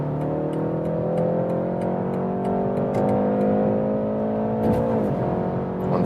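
A BMW 330i with a 2-litre four-cylinder engine accelerates hard in sport shift mode, heard from inside the car. The engine note climbs steadily and shifts gear once near the end, with a loud, continuous drone and no talk.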